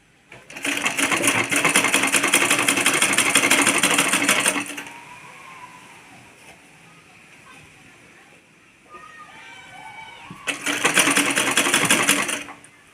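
A sewing machine stitches the side seam of a kurti in two loud, steady bursts of rapid whirring, separated by a quieter pause with faint handling sounds.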